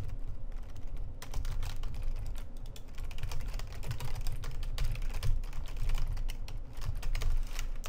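Fast, continuous typing on a computer keyboard while coding: dense, close key clicks in quick irregular bursts, with a brief pause near the start.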